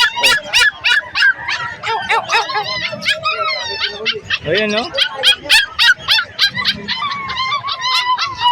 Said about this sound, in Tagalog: so dito naman tayo sa mga aso